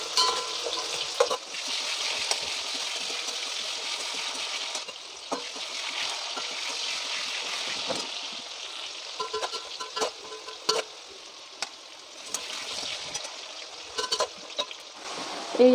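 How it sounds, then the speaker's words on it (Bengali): Onions frying and browning in a pan for spicy khichdi, a steady close sizzle with occasional stirring scrapes and crackles that thin out toward the end. "এই এবার আমার পেঁয়াজগুলো বাদামি কালারের হয়ে গেছে।"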